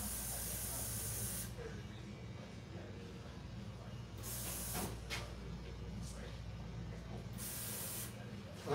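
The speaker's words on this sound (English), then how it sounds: "I'm kind of like spraying it up on an angle a little bit" Hair color spray hisses onto hair during a fade haircut in several short and longer bursts, close by, over a low background hum.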